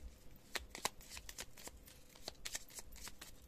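Small tarot cards being shuffled by hand, a run of soft papery riffles and flicks close up, with no talk over them.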